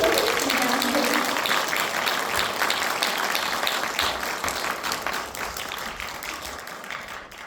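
Audience applause fills a lecture hall at an event on the May 18 Gwangju spirit and Korean democracy, steady broadband clapping that holds for several seconds and then gradually thins and fades.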